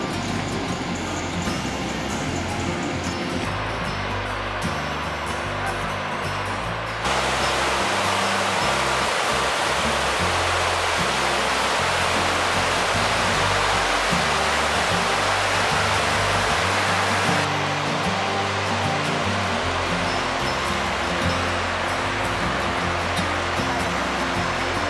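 Gullfoss waterfall in Iceland roars as a dense, steady broadband rush of falling water, loud and continuous, with slight shifts in level and no talk.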